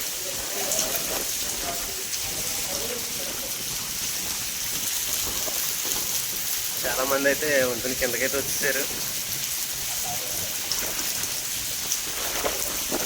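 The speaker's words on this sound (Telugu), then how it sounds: "చాలా ఎక్కువగా వచ్చేసింది వర్షం." Heavy rain pours steadily while sheltering under a bridge, a constant hissing wash of drops on surfaces; someone talks briefly over it midway.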